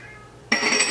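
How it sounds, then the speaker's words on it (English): A house cat shut in a laundry room gives a single short, clear meow near the end, fairly close, following a quiet kitchen background. "My cat's meowing."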